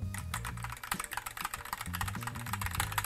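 Rapid, close-up typing on a Cooler Master CK550 RGB mechanical keyboard fitted with Gateron Red switches, giving a dense patter of soft, muffled key clacks without any voices.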